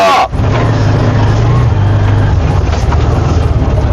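An auto rickshaw runs on the road, its engine giving a steady, close, loud rumble that holds for several seconds after a brief sharp onset.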